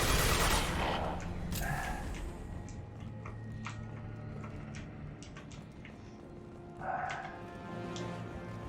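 Gunfire in Mass Effect 2 as a hunter is brought down: a few sharp shots in the opening seconds, another burst near the end, over a steady game soundscape with clicks and ambient hum.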